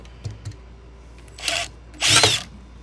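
A cordless drill drives a screw into a wall stud near electrical boxes, giving two faint short taps followed by two brief, louder whirring bursts close by.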